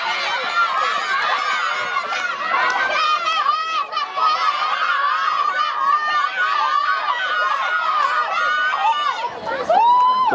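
Young spectators at a school games athletics race on a track shout, call out and cheer in a dense, continuous babble of many voices close by, with brief high shrieks rising above the crowd noise.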